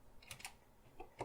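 Keys pressed on an ETC EOS lighting console keyboard: a few quick, quiet clicks close by, in two brief bursts with a short gap between them, and no speech.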